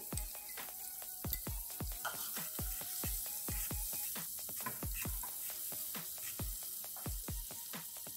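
Garlic fries in a pan until golden, giving a soft sizzle with rapid crackles and pops throughout, fairly quiet and close.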